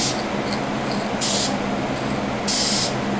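Two short bursts of aerosol spray paint lay a base coat on a Hot Wheels Trans Am model car, each hiss about a third of a second, close by against a faint steady room hum.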